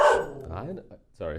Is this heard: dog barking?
yes